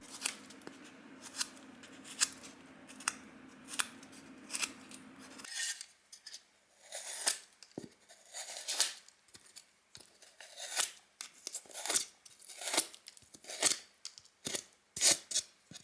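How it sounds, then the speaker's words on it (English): Foam is torn by hand for tabletop cave terrain, giving a series of short crisp ripping and snipping bursts in an irregular rhythm after a brief stretch of low background hum; close and fairly quiet, with no voices. "we will tear off a bit more foam in some areas, not just on the bridges but also across all the hills"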